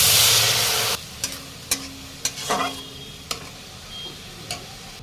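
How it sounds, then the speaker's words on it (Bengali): Grated tomato tipped into hot ginger-garlic paste, a loud sizzling rush for the first second, then quieter frying with a string of sharp spoon-against-pan clicks and stirring scrapes. "এবারে দিয়ে দেব গ্রেট করা টমেটো"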